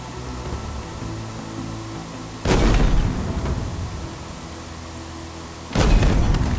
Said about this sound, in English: There, I can hear him firing at me.